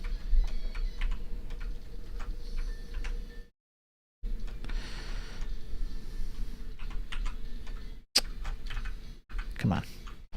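Fast typing on a computer keyboard with rapid irregular key clicks, close and clear, broken by a short silent gap and a few sharper taps near the end.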